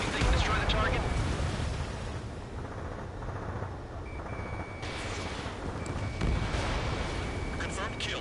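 An AA gun is destroyed in Ace Combat 7, a rumbling explosion over ongoing roar and rumble, with radio voices talking over it.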